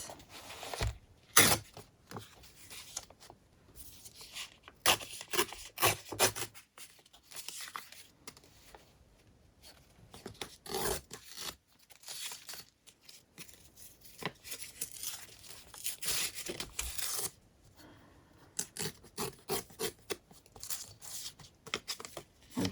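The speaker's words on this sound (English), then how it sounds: "Let's tear it." Dyed paper envelope torn by hand, a series of sharp close ripping and crinkling bursts separated by quiet pauses, with rustling paper handled in between.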